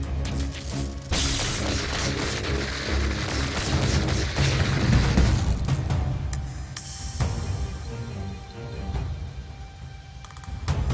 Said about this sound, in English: Holy shit, those guys explode.